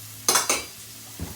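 Onions and spices fry in fat in a pan, with two short hissing stirring scrapes followed by a soft low clunk, quiet and close.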